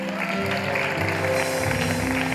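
Steady clapping from a game show studio audience fills the space for a couple of seconds, dense and even, with faint murmuring underneath.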